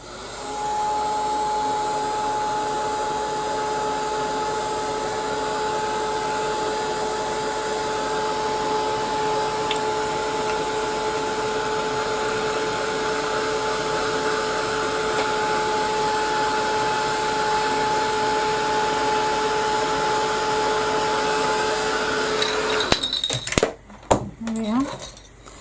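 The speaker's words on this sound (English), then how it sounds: "I'll give that a quick blast with my heat gun" A heat gun blows hot air over a watercolour journal page, a steady broadband roar with a constant whine running for about 23 seconds before it cuts off with a few handling clunks.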